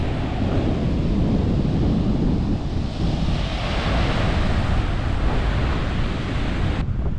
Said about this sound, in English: Great place to sit out on the beach, enjoy the waves crashing.